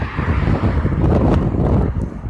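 Cars pass on a nearby road in a loud, continuous roadside rush mixed with wind buffeting against a phone microphone.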